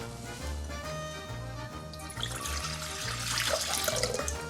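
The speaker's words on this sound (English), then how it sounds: "we start by adding the water," Water runs from a tap into a vessel while pizza dough is being prepared, a steady splashing stream that grows louder and brighter partway through, with a low rhythmic background tone underneath.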